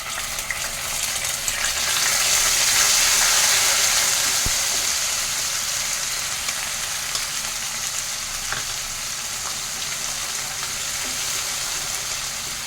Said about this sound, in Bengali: এবার এই আদা লঙ্কার পেস্টটা ওকে দিয়ে দিলাম